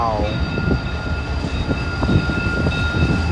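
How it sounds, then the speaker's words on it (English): A passing freight train with an unfamiliar locomotive, seen trackside downtown in Pittsburgh, gives a steady rumble of rolling wagons with clanking and a fading high tone, heard close and continuous with no talk. "Never seen that locomotive in my life."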